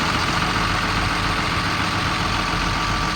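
A 2002 Sterling M8500 bucket truck with a 5.9 liter Cummins diesel idles steadily, a constant dense rumble with no talk over it.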